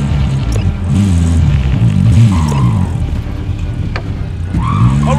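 A car driving in the video game Call of Duty: Modern Warfare, with a loud, steady engine rumble and shifting pitch as it accelerates, close up with no talk over it.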